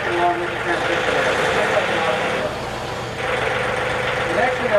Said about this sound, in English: Now in reverse. And you can hear the engine working along with the transmission there.